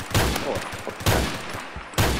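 Three sharp Desert Eagle pistol shots in the shooter game Phantom Forces, spaced roughly a second apart, each a loud punchy crack with a short tail, no talking.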